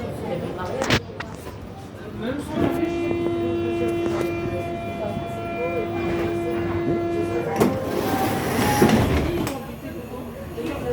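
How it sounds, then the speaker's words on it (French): Train pulling into a railway station, with a steady rumble of rail noise, a long sustained tonal squeal like brakes in the middle, and a sharp clank near the end, heard under occasional nearby voices. "Nous sommes arrivés à la gare Le Ver de Maison."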